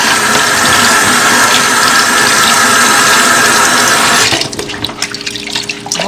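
Cold tap water gushing into a sink to soak a Scrub Daddy sponge, a loud steady rushing stream that cuts off abruptly after about four seconds, leaving faint drips and handling sounds.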